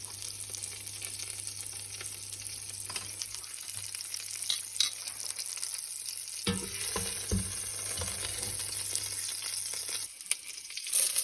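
Lamb shank searing in olive oil in a cooking pot, giving a loud, continuous hiss and crackle that shifts partway through as the meat is moved, with a few scrapes near the end.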